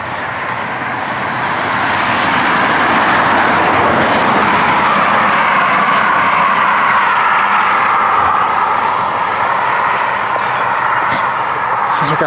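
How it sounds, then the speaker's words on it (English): Vehicles on an Alabama country road near the town of Holly Pond in the early morning pass close by, swelling into a loud, sustained roadside roar that stays near. "the traffic has picked up tremendously"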